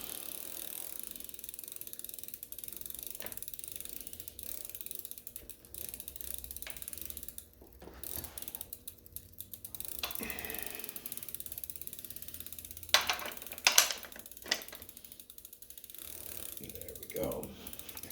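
A ratchet wrench clicks in quick bursts as a new bolt is tightened on a stripped-out Cannondale Adventure left crank arm, with close rapid pawl ticking, pauses and a few louder metallic knocks.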